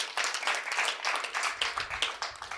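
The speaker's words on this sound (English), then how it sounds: "Clap for yourselves." Audience at the Bethanie Youth Expo 2024 opening applauding themselves, a dense, steady patter of many hands clapping throughout, fairly close and even.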